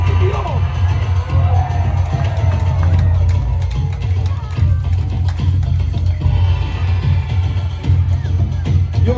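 Large crowd cheering and whooping at a live Wars of the Roses show at Warwick Castle, a sustained loud roar of many voices with yells rising throughout.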